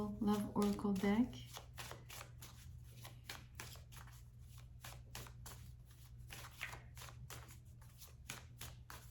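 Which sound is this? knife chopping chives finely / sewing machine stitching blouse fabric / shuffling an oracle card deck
shuffling an oracle card deck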